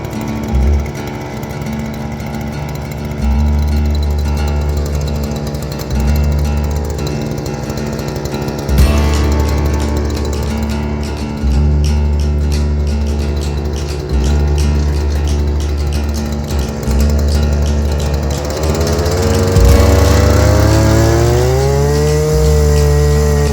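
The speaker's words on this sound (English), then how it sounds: "I'm going to get the new hole drilled for the last post and get that one set" A gas-powered auger drills a fence post hole on a homestead, its engine droning loudly and steadily with repeated surges and dips in load, with no talking.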